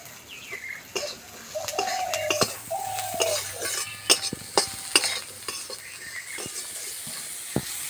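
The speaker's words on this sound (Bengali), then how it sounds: "অল্প একটু ভাজা ভাজা হয়ে গেছে, এবার আমি পরিমাণ মতো নুন দিয়ে দেবো।" A spiced rice kebab mixture made from leftover soaked rice is sautéed in a pan: gentle frying sizzle under repeated scraping and clinking of a spoon against metal, with sharp knocks near the end.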